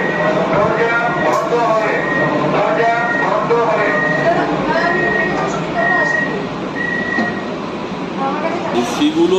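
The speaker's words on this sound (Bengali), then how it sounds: "ছেড়ে দিল প্রথম কলকাতার এসি লোকাল ট্রেন।" An air-conditioned Kolkata local train on the Sealdah–Ranaghat line pulls away, heard from inside the coach. A steady rumble runs under a rising electric motor whine, with voices murmuring throughout.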